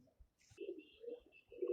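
Pigeons coo in a soft, low murmur, faint and brief, with a short higher chirp near the start.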